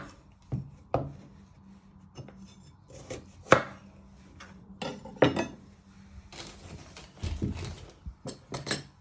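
Knife chopping the ends off carrots on a board during roast vegetable prep, a series of sharp separate cuts with pauses between, close and fairly loud, no talking.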